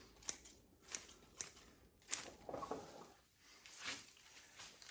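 Scissors snipping leaves off a raft-style trident maple during summer pruning, four or five crisp, quiet close-up cuts spaced about half a second apart, with soft rustling of foliage between them.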